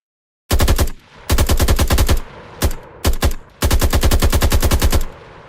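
Automatic gunfire in an Unreal Engine 5 zombies shooter game: several loud rapid-fire bursts of different lengths, sharp repeated shots separated by brief pauses.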